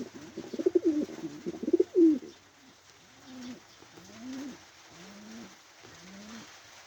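Pigeons coo at their nest, starting with a cluster of louder, overlapping throaty coos, then settling into softer, evenly spaced single coos with short gaps between them.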